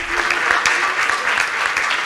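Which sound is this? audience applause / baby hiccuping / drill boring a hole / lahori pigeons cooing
audience applause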